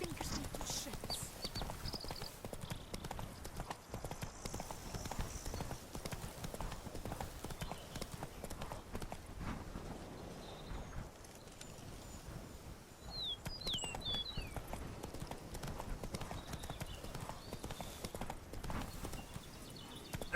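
Hooves of the horse Roach clip-clop steadily at a gallop in The Witcher 3: Blood and Wine, a continuous rhythmic patter close by with game ambience and faint birdsong, and a voice speaks over it.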